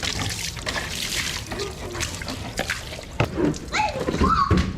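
Water rinses a motorcycle being washed, trickling and splashing unevenly close by, with voices talking over it.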